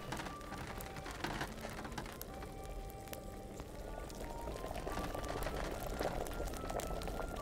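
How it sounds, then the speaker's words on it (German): Liquid bubbles in a cooking pot over a fire in Kingdom Come: Deliverance while nettles and marigolds brew, a soft, steady hiss with scattered faint pops running continuously at low volume. "Das kocht."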